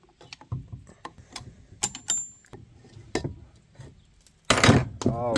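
Gears turning inside the diamond drive of a mountain bike produce scattered mechanical clicks and clunks at close range, with a person speaking briefly near the end.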